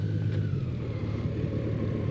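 A Honda Gold Wing motorcycle engine runs with a steady low rumble while reversing down a slope, close and continuous with no talk.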